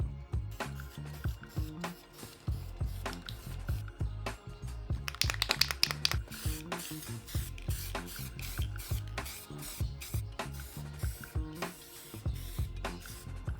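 Aerosol can of plastic primer sprayed onto headlight trim of a Skyline, a couple of short hissing bursts among close rustling and handling clatter, no talk.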